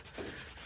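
Medium grit sandpaper rubs briefly across a piece of polymer clay jewelry, a short close scratchy swipe.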